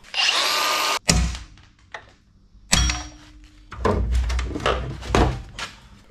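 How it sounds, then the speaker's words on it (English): A grinder cuts off stubborn bolts on a 60 Series LandCruiser. A loud, harsh one-second burst of grinding is followed by scattered clunks and knocks from nearby work. "We'll grind them off."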